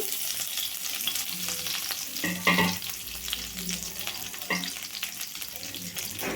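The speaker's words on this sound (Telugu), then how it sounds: "ఎనిమిరపకాయ ముక్కలు కూడా ఇట్లా వేగాయండి" Chili pieces and chopped curry leaves fry in hot oil in a pan, a steady close sizzle with occasional stirring scrapes and brief louder crackles, with no one speaking.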